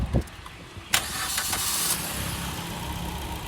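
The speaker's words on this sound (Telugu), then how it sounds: "సింగిల్ సెల్ఫ్లో అయితే బండి స్టార్ట్ అవడం జరుగుతుంది సార్." A 2014 Maruti Swift VXI petrol car with 53,000 km fires up on a single crank, after a brief whir, then settles into a steady, fairly loud idle with no voices.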